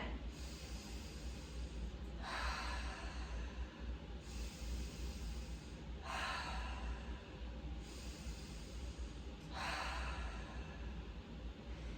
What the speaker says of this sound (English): let's take 3 deep clearing breaths into the nose, out through the mouth